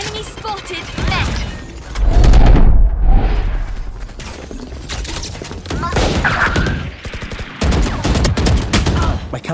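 Grenade blast and gunfire in a competitive first-person shooter match: a heavy booming thud around the middle, then bursts of rapid shots and sharp cracks throughout, loud and close, mixed with game voice callouts.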